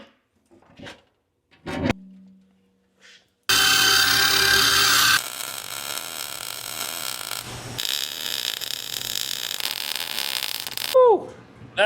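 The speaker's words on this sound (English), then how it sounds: "That was a lot of welding." Welding on the rusty frame rails of a Jeep Wrangler TJ, a loud steady buzzing crackle that starts abruptly after a few quiet knocks and runs in long sustained bursts with brief pauses.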